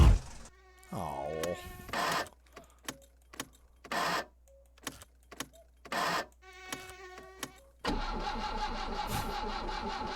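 My Summer Car in-game car engine cranking over and over in short bursts, repeated starter whirs separated by pauses before the motor finally catches and settles into a steady idle, loud and close.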